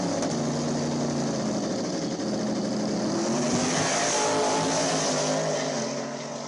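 A Hemi-powered drag race car roars past at a drag strip, a loud sustained engine howl that swells and shifts in pitch, then eases off near the end.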